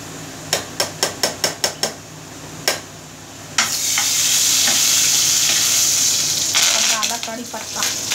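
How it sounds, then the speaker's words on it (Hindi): Curry leaves dropped into hot oil with garlic browning for Punjabi kadhi pakoda, giving a loud continuous sizzle after a series of sharp stirring clicks and taps against the pan. "अब डालेंगे कड़ी पत्ता। लहसुन हमारी लाल हो रही है।"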